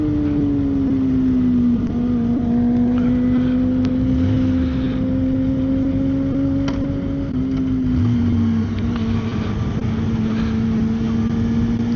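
Kawasaki ZX10 1000cc sport motorcycle riding on a demo day, a steady loud engine drone that shifts pitch slightly as it runs, under heavy wind rush throughout with no talk.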